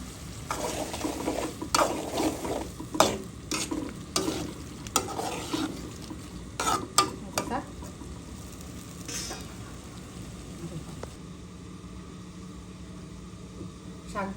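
Potatoes and prawn curry with mixed vegetables cook in a pot. Sharp stirring and scraping clatters come in irregular bursts over a low sizzle, then the sound eases into a quieter bubbling hiss.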